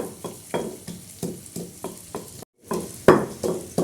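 Coarse-ground masala of coriander, chillies and garlic roasting in a pan, heard as repeated short scraping stirs with a light sizzle underneath, one brief gap, then a louder stir.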